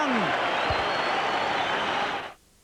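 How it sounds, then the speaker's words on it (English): A football crowd at Football Park roars and applauds in a dense, sustained wave that fades out at the end, with a commentator's voice running faintly under it. "Here at Football Park, the crowd is starting to come alive"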